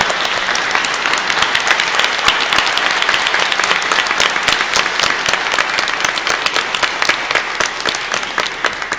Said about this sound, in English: Can we give them all a round of applause again?